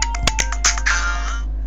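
A ringtone playing on an iPod Touch: a short melodic electronic tune of bright, separate tones in quick succession, then a sustained chord that fades out, heard alone and close.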